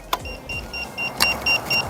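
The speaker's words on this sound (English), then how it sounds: "you can actually hear that beeping noise" Pride Jazzy Ultra Light folding power chair set to neutral, giving a series of short, evenly spaced electronic beeps, about seven in under two seconds, close and clear after a brief click.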